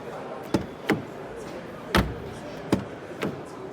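Doors on a 2025 Peugeot E-5008 GT seven-seater opened and shut, several sharp thuds and clunks at irregular intervals against a quiet background.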